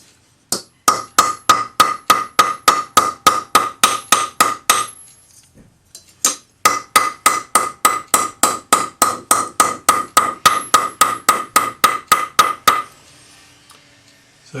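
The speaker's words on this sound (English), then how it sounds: "just hammer that fold flat" A planishing hammer strikes folded metal on a bench block in two long runs of sharp, ringing metallic blows, about three per second, loud and close, with a brief pause between the runs.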